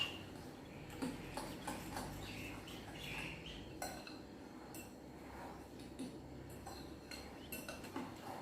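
A fork stirs dry oatmeal cookie ingredients in a bowl, giving faint, irregular clinks and scrapes against a quiet room background.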